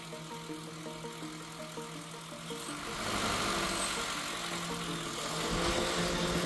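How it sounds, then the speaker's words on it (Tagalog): Air-conditioning condenser fan motor and compressor of a 2013 Honda City running, a steady mechanical hum that grows louder and rougher partway through. "At pag nag-unload yung aircon compressor, namamatay din yung condenser motor niya."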